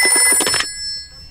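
A cartoon telephone rings in a rapid electronic trill for about half a second, loud and clear, then cuts off into near silence.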